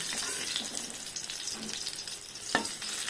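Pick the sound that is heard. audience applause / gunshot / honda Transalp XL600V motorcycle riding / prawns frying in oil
prawns frying in oil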